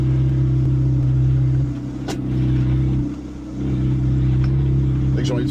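A Peugeot 206 WRC rally car drives through the desert, its engine rumbling loudly and steadily, dipping briefly midway before surging back up, with voices talking over it inside the car.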